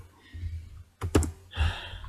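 Keys clicking on a computer keyboard, two short bursts of close, crisp keystrokes separated by a brief pause, with no talking.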